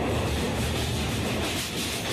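Simhadri Express passenger train crossing a bridge over the Krishna river, heard from inside as a steady, loud rumbling clatter of wheels and carriages with no break.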